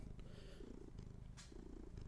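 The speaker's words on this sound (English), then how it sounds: "Why do you hear a cat and bells? Because there is a cat and he has a bell on." A cat wearing a bell purrs steadily up close while the small bell jingles faintly now and then, with no talking.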